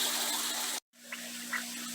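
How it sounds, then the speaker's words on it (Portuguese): A water pump running in an aquaponics system, a steady rushing hum of flowing water that cuts out briefly and restarts, no speech. "agora a bomba vai distribuir aí para o nosso sistema"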